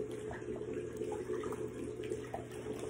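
Water runs steadily from a sink tap while a face is washed with volcanic ash acne wash, a continuous soft rushing splash with small irregular splatters, fairly close and with no talk.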